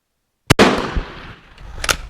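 A single loud crack from an Italian Vetterli 1870/87 rifle fired during load testing at a range, followed by a decaying rumble and a sharp metallic click near the end.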